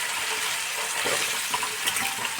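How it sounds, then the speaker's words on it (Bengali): Diced potatoes fry in white oil in a pan, giving a continuous bubbling sizzle with small crackling pops scattered on top, close and moderately loud. "আমি প্রথমে ছোট ছোট করে কেটে রাখা আলুগুলো আমি একটু ভালো করে ভেজে তুলে রাখবো।"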